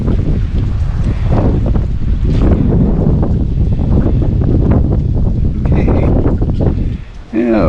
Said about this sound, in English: I'm going to walk into the wind briefly.